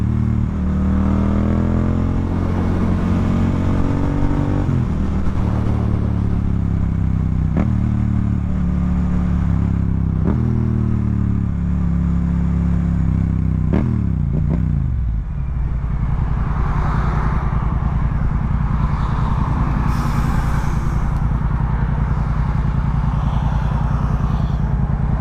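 A motorcycle with a sagging rear shock rides along a small service street, its engine revving up through several gear changes in rising, falling sweeps, then settling into a steady rumble, close and loud throughout.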